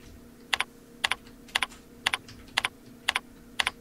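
Short bursts of typing on a computer keyboard while a file name is entered, seven quick double-tap clusters spaced about half a second apart, close and clear over a faint steady hum, with no talking.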